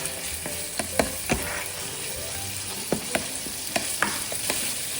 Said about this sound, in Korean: 간마늘이 볶아지면서 와, 벌써부터 맛있는 냄새가 올라옵니다